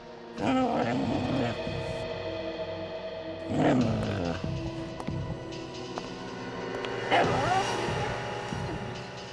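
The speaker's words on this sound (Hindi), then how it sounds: "ये कुत्ता रो रहा है," A dog whimpers and cries over its dead owner in three drawn-out, wavering howling wails, under people talking and a dramatic music bed.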